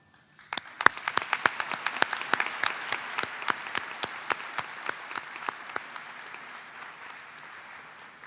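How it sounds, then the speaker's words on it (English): A graduation audience claps, starting with a few sharp, loud, spaced claps that fill into a dense round of applause before gradually fading toward the end. "you deserve a round of applause."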